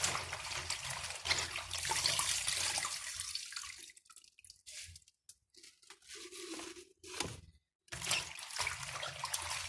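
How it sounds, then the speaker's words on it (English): Water sloshes and trickles as vegetables are rinsed in a bowl, a close splashing wash that breaks into intermittent drips and quiet gaps partway through. "Try to rinse it very well with your bowl water."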